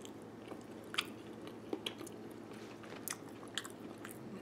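Soft, wet chewing on a bite of a Sprouts dolma, a rice-stuffed grape leaf, with quiet squishy mouth sounds and a few faint crunchy clicks, close and alone.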